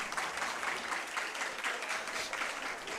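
Panthers team members clapping at a high school junior varsity swim meet at Stevens Point, an even, sustained patter of hands that sounds somewhat distant and fairly soft, with no voices.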